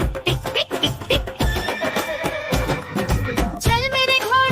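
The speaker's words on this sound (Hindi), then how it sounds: "चल मेरे घोड़े चल टिक टिक" A horse in a Hindi nursery rhyme for kids neighs and whinnies over clip-clopping hoofbeats and bright music, ending in a loud rising whinny.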